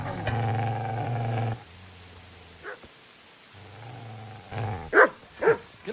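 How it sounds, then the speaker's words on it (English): A dog in Kingdom Come: Deliverance growls in long low rumbles, pauses, growls again, then lets out several sharp barks close by. "Get away, you mutt!"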